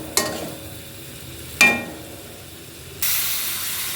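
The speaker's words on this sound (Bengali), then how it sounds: "এবার আমরা একটু গরম জল দিয়ে দেবো, না হয় আবার শক্ত হয়ে যাবে।" Hot water goes into a pan of cooking vegetarian vegetables (bean seeds, potato and eggplant). Two quick clatters come first, then a sudden loud hiss of steam and sizzle rises and holds to the end.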